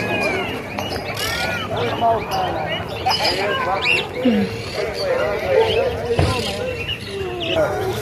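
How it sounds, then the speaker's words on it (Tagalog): Birds chirp and tweet outdoors with short, scattered calls mixed into a busy open-air background, near and clear over a steady ambient murmur. "may mga ibon."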